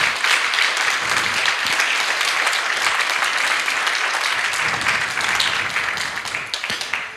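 A church congregation applauds during a Spanish-language sermon, producing steady, dense clapping that fills the space evenly and thins slightly toward the end.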